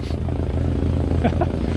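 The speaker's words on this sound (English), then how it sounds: "oh, that's a nice little plane. That's a 172." A steady low engine drone of a Cessna 172 light propeller airplane passing overhead, continuous throughout with faint voices underneath.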